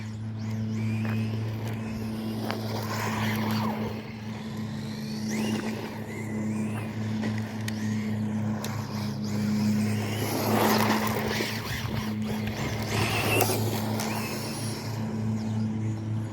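A Traxxas Bandit VXL 3S RC car drives and slides over rocks and street, its electric motor whining steadily with surging bursts of acceleration under continuous broadband noise.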